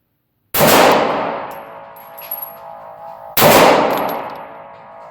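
Two loud handgun shots fired at a range, about three seconds apart, each a sharp crack followed by a long ringing decay, with no talking.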